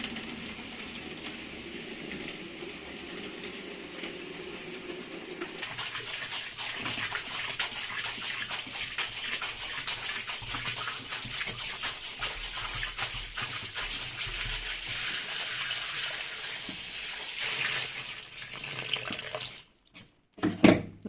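Water pouring into a container of salted cabbage for Bulgarian sauerkraut, a steady rushing splash that starts partway in, runs loud and continuous for about twelve seconds, then stops, with a few bumps near the end.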